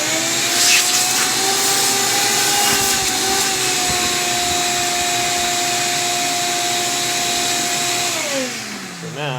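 A shop vac runs steadily with its airflow roaring through a bendy hose, a loud continuous drone with a few brief tonal shifts, winding down near the end.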